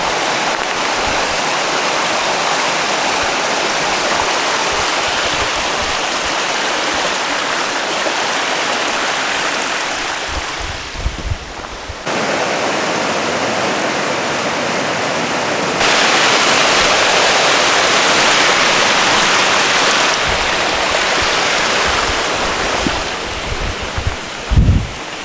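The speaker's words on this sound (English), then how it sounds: "First little water crossing." A mountain stream at a hiking trail water crossing in a Washington State valley rushes loudly and continuously. The steady roar shifts slightly as the listener moves, with a few faint footstep knocks near the end.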